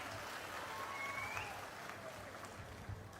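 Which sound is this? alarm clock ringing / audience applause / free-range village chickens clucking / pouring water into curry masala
audience applause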